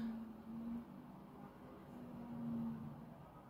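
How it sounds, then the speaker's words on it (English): Steady low engine rumble of buses passing in the background of a residential area, a continuous drone that swells briefly near the start and again toward the end. "you can hear the background, it's just buses buses in my area"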